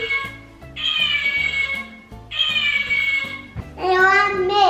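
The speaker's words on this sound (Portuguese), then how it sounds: "É o gato. É o gatinho!" Recorded cat meows from a Galinha Pintadinha animal-sounds toy, three drawn-out electronic meows in a row, the last one brighter and wavering, over a soft repeating toy melody.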